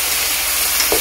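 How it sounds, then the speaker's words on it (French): Carrots and onions sweat in hot fat in a pan for a wild boar civet, giving a loud, steady sizzle and fry up close with a faint stir near the end and no talking. "les légumes que je vais aussi venir faire suer justement avec la matière grasse"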